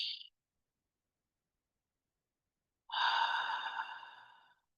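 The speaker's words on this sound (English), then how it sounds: "Just take 3 deep breaths in and out with me." Slow, deep breath taken in and released during a calming guided relaxation: a brief soft inhale at the start, a long pause, then a long audible exhale that fades out gently, close and quiet.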